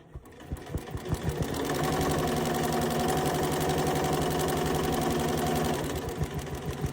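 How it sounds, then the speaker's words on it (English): A Poolin EOM embroidery machine stitches an appliqué with a fast, even mechanical chatter and hum that ramps up, holds steady for several seconds, then slows to a few separate clunks, close and clear with no voices. "Now it's going to move up. And we're going to stitch it right."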